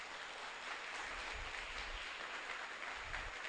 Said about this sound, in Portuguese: Pode aplaudir isso em nome de Jesus.